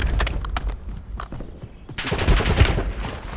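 Automatic machine gun fire in the Call of Duty Warzone video game, loud close bursts that thin out, then return as a dense, heavier volley.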